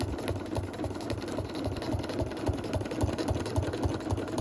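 A sewing machine runs at pedal-controlled speed while quilting leaf shapes along a contour. It makes a fast, even, rhythmic needle chatter with a low motor drone, close and continuous, with no talking.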